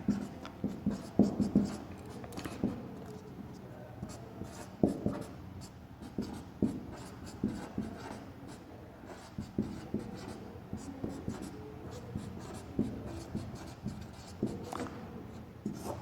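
Chalk or marker writing on a classroom board, with repeated scratchy strokes and taps in an irregular rhythm for the whole stretch, close and moderately loud, no talking.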